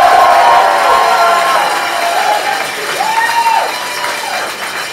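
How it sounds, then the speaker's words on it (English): A rally crowd for Andrew Yang's campaign cheers and applauds loudly, with whoops and raised voices rising and falling over a continuous wash of clapping. "Let's give Andy another round of applause."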